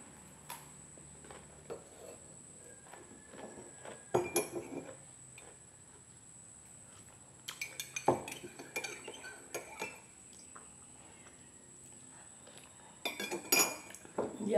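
Cutlery and dishes clinking during a meal, with scattered light metallic taps and scrapes that come in small bursts over a faint background hum. The clinks are close but soft.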